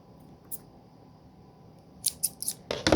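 A few quick, crisp snips of scissors cutting silver craft material for a foam hummingbird wreath, clustered near the end after a long quiet stretch, close and fairly soft.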